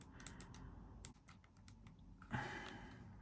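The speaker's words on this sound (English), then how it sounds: "I'm surprised I can actually type on this." Small plastic keys clatter in quick, uneven bursts as someone types on the physical QWERTY keyboard of a BlackBerry 9300 Curve 3G phone, close up and quiet, with a short pause midway and no talking.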